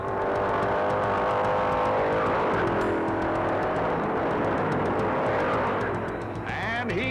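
Stock cars racing flat out at about 175 mph on the high-banked track during the 1964 Daytona 500, a loud, dense engine roar sustained throughout with overlapping cars and no break.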